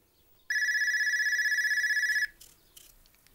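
A single loud electronic telephone ring, a steady warbling tone lasting under two seconds, starts abruptly and stops, followed by faint room noise.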